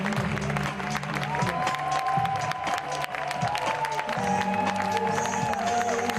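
Enthusiastic ovation at a press conference for the Eurovision winner, rapid dense clapping from a room of people, sustained and close, with some voices and cheers mixed in.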